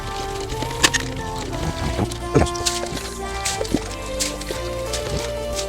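Water sloshes and drips as pH reducer is stirred into a swimming pool, with irregular splashy drips and trickles close by, no talk.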